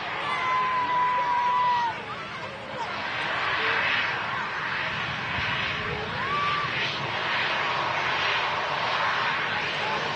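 A Boeing 737 arriving from Amsterdam Schiphol at Manchester Airport produces a steady, broad engine roar throughout, close and sustained, with faint voices and radio chatter mixed underneath.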